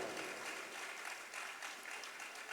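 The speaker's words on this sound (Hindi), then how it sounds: "आपने जो ताली बजाई" Audience clapping during a Jain monk's religious discourse, a quiet, steady wash of many hands applauding together, faint and distant throughout, with no voices over it.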